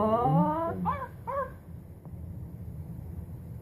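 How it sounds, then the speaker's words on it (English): A dog lets out a few short, high whimpering yelps in quick succession, fairly close, followed by a quieter stretch of low background noise. "If you need help, he'll let out a yelp."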